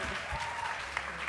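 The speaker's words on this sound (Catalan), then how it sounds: "Que aplaudeixi qui creu que està viu." A theatre audience at the Golem's theatre applauds: dense, steady clapping from many hands fills the room at moderate loudness, with faint murmuring voices mixed into the crowd noise.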